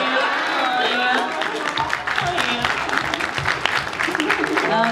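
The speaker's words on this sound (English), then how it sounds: "let's give a nice and a round of applause for King Chris for coming today." Audience applause at a convention Q&A panel, a steady burst of clapping from a roomful of fans with cheers and voices mixed in, sustained throughout.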